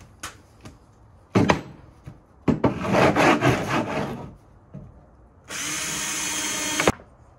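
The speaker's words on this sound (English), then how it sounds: "We'll drill some holes in these front braces." A power drill bores holes in wooden front braces in several close, loud bursts, one long grinding run and a final high steady whine, separated by brief pauses and knocks.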